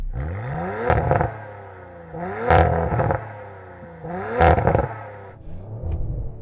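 Audi RS4 2.9 litre twin-turbo V6 revved three times while parked, each blip climbing to a loud peak and falling back to a steady idle, followed by a shorter fourth rev.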